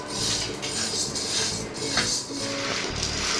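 Roasted sago pearls scraped and scooped out of a hot pan on a home stove, with metal utensil clinks and a dry rustling scrape running steadily through the short stretch.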